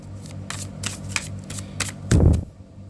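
A deck of tarot cards gets a final hand shuffle, a quick series of crisp riffling bursts close by, ending in a louder thumping rustle as the cards are squared, with no voices.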